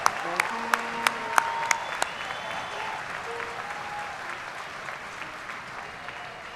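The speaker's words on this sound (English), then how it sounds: "let's give our graduates one final round of applause." Applause for graduates at a university spring commencement ceremony for the Graduate School, a broad steady wash of clapping from a large audience that swells briefly with a few sharp claps, then settles into a sustained, even ovation.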